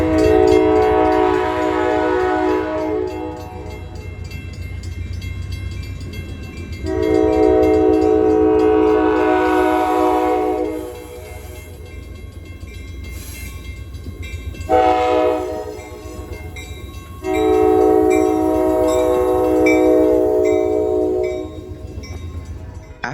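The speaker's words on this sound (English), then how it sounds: "trains blow the crossing horn sequence when passing through the railroad crossings" A train on the Grand Junction line in Boston blows its crossing horn sequence at a road crossing. There are four loud, sustained horn blasts in a long-long-short-long pattern over the low rumble of the moving train, and no one speaks.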